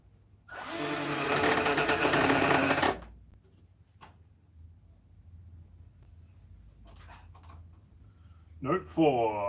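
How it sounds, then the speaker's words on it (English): A power tool whirs loudly for a couple of seconds while a new instrument is being built, then cuts off, leaving faint taps and a short tonal sound near the end. "Letting loose with the power tools yet again."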